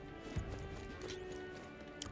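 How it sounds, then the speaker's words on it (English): Horse hooves clip-clop softly beside a carriage in a town street in the video game Metaphor: ReFantazio, a few scattered low thuds under quiet game ambience. "There's a horse and a carriage."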